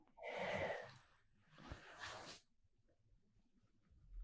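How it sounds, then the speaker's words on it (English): A big, drawn-out human yawn rises into a breathy, open-mouthed exhale, followed by a shorter second breath, close and fairly quiet, then near silence. "there was a really big yawn"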